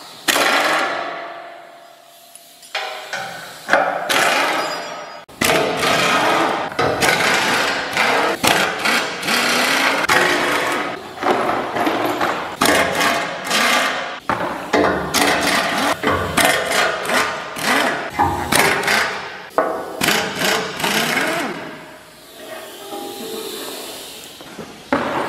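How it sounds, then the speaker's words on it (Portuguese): A pneumatic tool removes the many screws of a vehicle grille, firing in loud, repeated bursts of buzzing, hissing rattle with short gaps between them, close by and with no talk over it. "A pneumática, filho. Vamos arrancar essa grade aí."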